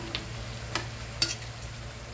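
Chicken adobo frying with garlic in a pan, stirred with a utensil: a few sharp scraping clicks spaced apart over a low, steady sizzle, close and moderately quiet.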